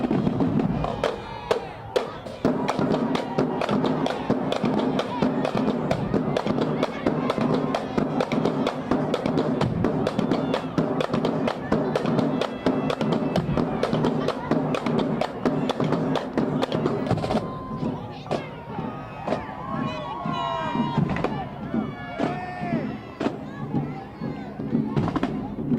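Marching drum line performing in Charlotte's Uptown Thanksgiving parade, with loud, dense, steady drumming and crowd noise throughout; the drumming thins out over the last several seconds.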